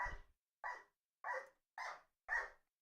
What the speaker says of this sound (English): Apologies if you can hear my little pup barking in the background.